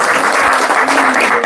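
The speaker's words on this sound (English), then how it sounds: "Let's give a big round of applause." A lecture audience claps loudly and steadily, a thick close applause filling the moment without a break, with a faint voice briefly underneath.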